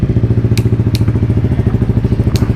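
Yamaha NMAX 155 scooter fitted with a Tridente exhaust in racing mode, idling with a deep, throbbing, rapid pulsing note up close, broken by a few sharp crackling pops.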